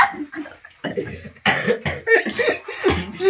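A person imitates the harsh, choking coughing fits of whooping cough, giving a series of rough bursts that are loud and close and run together with voiced sounds over about three seconds.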